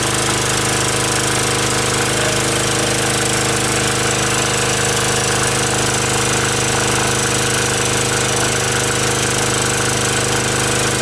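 An OKAY 2.8 kW generator with copper windings and AVR stabilization runs under load, a loud, dense, unbroken mechanical engine drone and rattle with a steady hum throughout, close up and alone.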